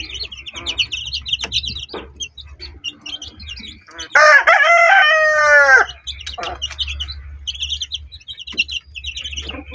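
A mother hen feeds her newly hatched chicks corn bran and mixed feed while the chicks chirp in rapid, high peeps. Midway, a loud rooster crow cuts in for about two seconds before the chirping resumes.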